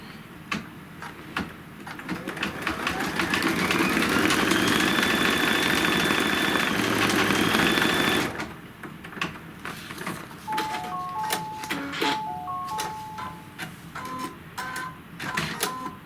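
An embroidery machine stitches out a small applique stem curlicue, a rapid mechanical chatter that rises into a loud sustained run with whining tones, then breaks into choppier bursts and clicks after a pause.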